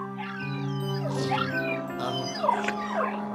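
Polter Puppy, a ghost dog in Luigi's Mansion 3, gives playful yips, whimpers and barks over spooky game music, several short cries in a row.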